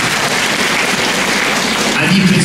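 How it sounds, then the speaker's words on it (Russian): An audience at a school rock concert applauds in a thick, continuous wash of clapping that holds at a steady, loud level from start to finish, with faint voices mixed in. "теперь аплодисменты"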